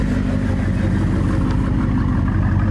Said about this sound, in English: Sounds like a V8 Cougar,